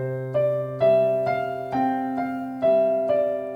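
Keyboard notes played in a steady pattern, then at double speed, two notes for every one, ringing into each other, clear and close with no voices.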